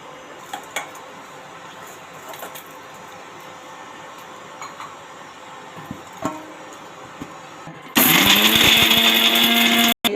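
Mixer grinder grinding pepper, cumin, chili, garlic, tamarind and tomato for rasam: quiet kitchen clinks first, then the motor abruptly roars loud and harsh near the end before cutting off.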